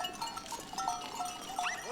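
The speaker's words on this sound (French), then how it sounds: "Les chèvres sont partis là." Goats and sheep in an open countryside pasture during a shepherd's hike, with a few short wavering bleats rising over steady outdoor ambience, fairly close.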